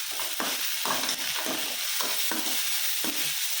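Okra and tomatoes for thoran frying in a pan, a constant bright sizzle broken by repeated scraping stirs at a steady rhythm, close and alone with no talking.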